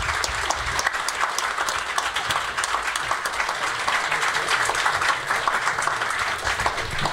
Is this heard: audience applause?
yes